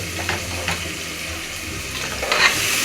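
Tomatoes sauté in oil for a jeeraga samba tomato rice, a close, steady crackling sizzle with brief stirring scrapes and a brighter hiss near the end, no speech.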